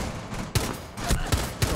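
Several sharp gunshots from the tactical shooter Rainbow Six Siege crack out close and loud over a steady background hum, coming in an uneven burst of roughly four shots.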